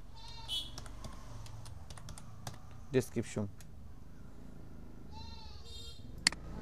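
Sparse keystrokes tap on a computer keyboard, a few scattered clicks and a short cluster of louder taps, with faint tonal sounds and room noise between them.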